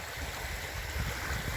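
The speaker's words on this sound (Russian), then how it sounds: "Опять волны." Waves wash continuously on the water during windy weather while fishing, forming a steady, rushing surge with a low rumble of wind underneath.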